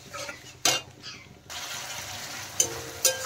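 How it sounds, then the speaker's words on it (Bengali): A spoon clinks and scrapes against a pan while spice masala and yogurt are stirred and fried for palak paneer, with a soft hiss rising partway through and a few sharp metallic taps near the end. "টক দই দেওয়ার পরে আরেকটু নেড়ে চেড়ে মশলাটা কষিয়ে নিচ্ছি আমি।"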